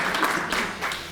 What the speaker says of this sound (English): Do you want to give her another round of applause?